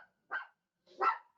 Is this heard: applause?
no